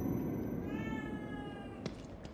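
A cat in the horror game The Evil Within 2 lets out a single drawn-out, wavering meow over a low background hum.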